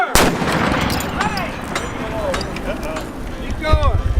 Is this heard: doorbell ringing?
no